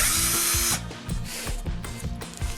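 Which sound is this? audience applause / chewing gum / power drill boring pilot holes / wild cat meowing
power drill boring pilot holes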